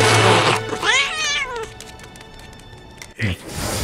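A cartoon cat in the animated series Love, Death and Robots lets out a loud, wavering, drawn-out meow close by, with voices and other scene sounds around it.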